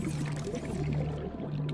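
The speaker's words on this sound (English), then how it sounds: "Oh, I can drink some water." Water being drunk in the underwater survival game Subnautica, a steady gurgling pour-like liquid sound running continuously for under two seconds at moderate level.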